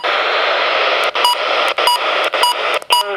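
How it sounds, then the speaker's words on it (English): Short electronic beeps and tones from a Midland weather radio alert test repeat over a steady broadband hiss, several bright chirps clustered near the end, loud and close. "Alert test. I love that sound."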